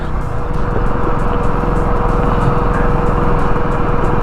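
Motorcycle riding the rough, icy Sach Pass mountain road: loud steady engine drone with buffeting wind, continuous and close, no pauses.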